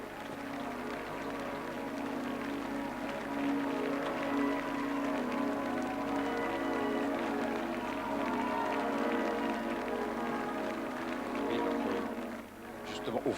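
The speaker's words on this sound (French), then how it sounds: "Le Saint-Père applaudi par la population strasbourgeoise." Crowd in Strasbourg applauding Pope John Paul II, a dense, steady wash of clapping and crowd noise holding for most of the time before dipping near the end, with a voice talking over it.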